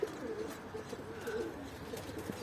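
Tumbler pigeon cooing softly over a steady outdoor background, with faint wingbeat-like rustles as it flies; the calls are low, repeated and moderately distant.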